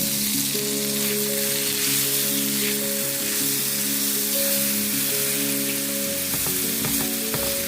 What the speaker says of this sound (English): Add the minced garlic and saute it until it's a little bit brown.